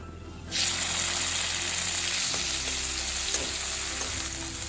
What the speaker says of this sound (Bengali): আমি আরও একটা ফোড়ন দিচ্ছি, 1/2 চামচ মতো কসুরি মেথি।